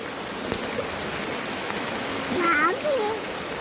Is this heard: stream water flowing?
yes